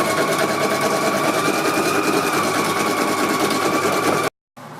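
A Pfaff sewing machine stitches steadily, its even mechanical whir running loud and unbroken for about four seconds before a brief dropout.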